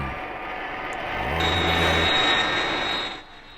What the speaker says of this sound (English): this plane is flying itself